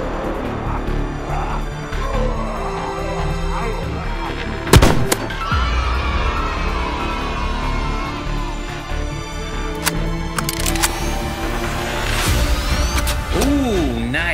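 A customized Nerf blaster with a scope fires foam darts during a first-person zombie shooting game, giving a couple of sharp snapping shots over a continuous busy background.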